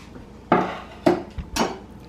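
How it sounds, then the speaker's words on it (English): A wooden spoon stirs onion and garlic in olive oil in a pot, three distinct knocking scrapes against the pot at a slow, even pace, close and clear. "I'm just going to stir that up. I'm going to use a wooden spoon today."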